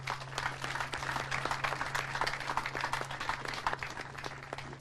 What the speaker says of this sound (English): give a round of applause there for anyone done that